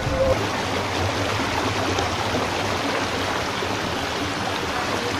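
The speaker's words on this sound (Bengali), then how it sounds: "এই যে দেখুন, পাথর থেকে বিন্দু বিন্দু জল ঝরে পড়ছে।" Water trickling and dripping from rock at a hillside spring, a continuous close rushing patter of flowing water, steady and fairly loud with no talk over it.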